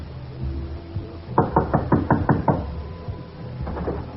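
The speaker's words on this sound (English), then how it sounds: "We're going to knock on the door." A run of about six rapid, evenly spaced knocks raps on a door, loud and close, followed after a pause by a softer couple of taps over quiet background.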